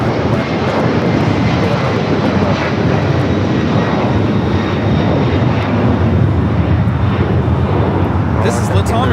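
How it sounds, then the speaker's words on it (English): A LATAM Airlines Boeing 767-300ER jet roars on takeoff at Los Angeles airport, a loud continuous broadband rumble and engine whine filling the whole stretch, with voices faintly in the background. "This is Latam Airlines 2479 taking off to Lima, Peru on the 767-300ER"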